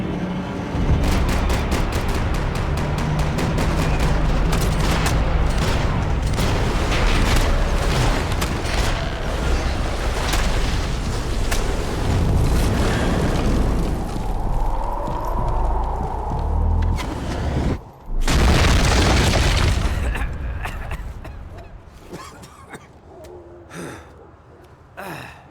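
Max Payne 3 combat plays out as a dense, loud barrage of gunfire and booming explosions that stays steady for about seventeen seconds, then cuts out briefly before one more sharp blast. The noise thins and fades toward the end.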